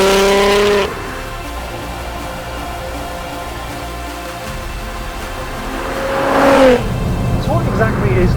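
A Litchfield-tuned Nissan GT-R LM20 with bigger, freer-flowing exhausts revs up in a rising roar that peaks loud and close, then cuts off with crackles, after a quieter idling stretch.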